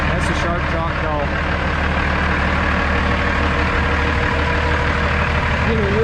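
A truck idling at a Norfolk Southern rail ramp in Toledo, a steady low diesel rumble held throughout, with someone talking over it.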